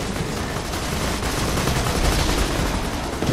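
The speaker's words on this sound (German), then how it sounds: "Auf euch schießen gerade." Sustained, dense gunfire from a firefight in Borderlands 2, a steady rattle of shots close up with vehicle action around, running unbroken with no talk over it.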